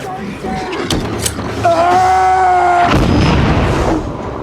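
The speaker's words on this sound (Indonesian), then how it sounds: "sampai akhirnya Hopper terpaksa meledakkan granat dan mengorbankan diri." A deep grenade explosion in a film: a boom with rumbling low end, mixed with a tonal hum and mechanical clatter, followed by a burst of noisy debris-like roar.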